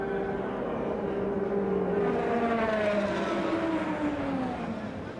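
IndyCar race cars at the Indianapolis 500 scream past at a distance. Their high engine whine drifts and slides downward in pitch over a constant crowd-and-track roar.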